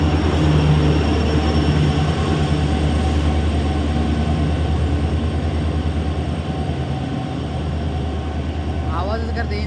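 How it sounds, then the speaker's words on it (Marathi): A train arrives at a station with a loud, continuous engine drone and rolling rumble close by, a brief wheel squeal near the end, and voices faintly mixed beneath the noise. "ट्रेन आल्या आणि बघ"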